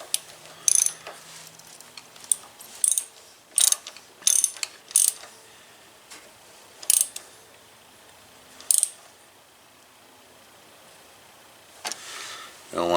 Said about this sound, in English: Let me get my socket ratchet on there. Give her a little bit of a snug down.